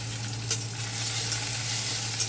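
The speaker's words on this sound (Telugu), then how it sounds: "ఉల్లిపాయలు వేగాలి." Onions fry in a pan for a ridge gourd and chana dal curry, a steady close sizzle with a couple of sharp clinks of a spoon stirring, alongside a low constant hum.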